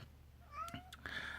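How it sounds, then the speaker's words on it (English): A pet cat meows indoors, two short close cries with a rising, tonal quality followed by a longer drawn-out meow, loud and clear against a quiet room. "Shush, kitty. That's my cat, Robin."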